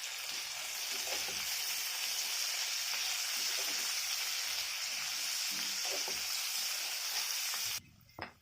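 Chopped capsicum frying with salt in a pan, giving a dense, continuous hiss of sizzling oil that cuts off abruptly near the end, followed by a brief thump.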